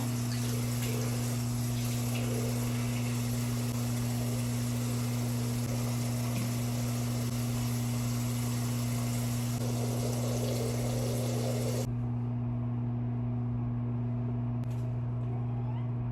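A tap runs in a dorm room, giving a steady, even wash of water that stays fairly loud alongside a constant low hum, then cuts off abruptly near the end and leaves only faint background.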